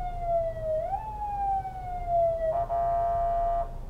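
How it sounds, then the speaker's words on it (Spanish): An ambulance siren wails loud and close with a steady tone that shifts in pitch. No voices are heard over it. "¿Pero de qué es esa bocina? De la ambulancia."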